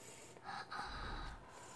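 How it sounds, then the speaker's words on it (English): Darth Vader's mechanical respirator breathing from Star Wars plays as a single slow inhale-exhale hiss, fairly faint and alone. "That's Darth Vader, he's breathing a funny way."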